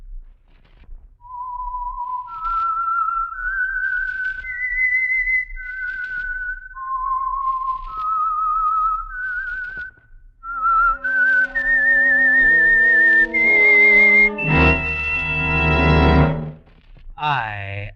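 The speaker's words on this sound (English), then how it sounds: "the signal to listen for is this whistle that identifies the Signal Oil program" A clear, lone whistled melody of slow rising and falling notes, the signature tune of the radio program The Whistler, followed by a swell of orchestral music and a loud sustained chord.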